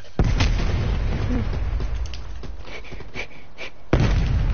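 Explosions rumble through an online Call of Duty Cold War match: a sharp blast opens, then comes a stretch of rumbling with a few smaller pops, and a second heavy boom lands near the end.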